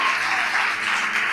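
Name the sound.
applause for Jesus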